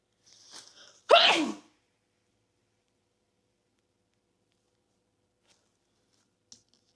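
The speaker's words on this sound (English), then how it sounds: "I feel like I have to sneeze." A single sharp sneeze from one person indoors, preceded by a faint breathy intake, close and loud, then near silence with one tiny click.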